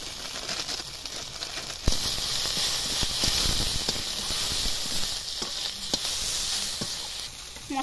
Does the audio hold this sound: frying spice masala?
yes